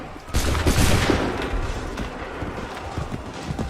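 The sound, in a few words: musket volley gunfire in the video game Assassin's Creed 3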